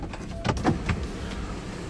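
Rear sunroof of a 2018 BMW X5 sliding open, a soft electric motor whir with a few faint mechanical clicks, heard close inside the cabin with no talking.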